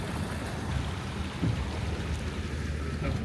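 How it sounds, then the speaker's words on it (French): A car fords a river in Jakarta, giving a steady wash of water and rumble around the wheels with constant low noise and no talk. "On est en train de passer une rivière"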